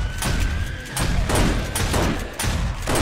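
Sniper fire at zombies in 7 Days to Die, from a raised position behind bars: loud, booming shots roughly every half second to second, near and heavy, with no voices.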